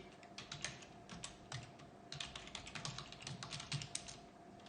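Rapid bursts of typing on a computer keyboard, keys clattering in quick uneven runs with a short pause midway, quiet and close against a faint steady hum.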